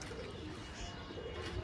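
A released female pigeon coos in a soft, low, repeated murmur, faint and close, over a quiet background.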